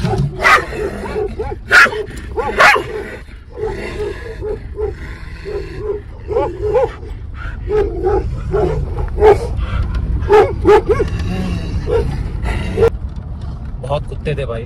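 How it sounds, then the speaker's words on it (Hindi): Many dogs barking from all around at Khardung La, a high mountain pass, with repeated sharp barks scattered over the clip amid steady outdoor rumble and speech. "जब बहुत सारे कुत्ते ऐसे भौं भौं भौं भौं करते हैं ना इधर उधर चारों तरफ से"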